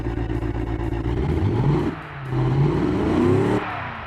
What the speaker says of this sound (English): it definitely sounds like a proper muscle car engine